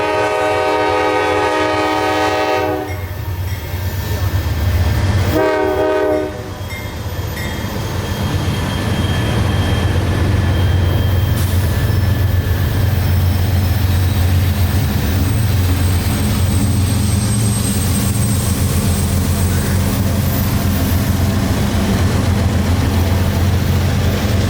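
Night freight train NS 373 on the CSX W&A Railroad sounds loud, long horn blasts, then a heavy, continuous rumble and roar of engines and wagons rolling past close by.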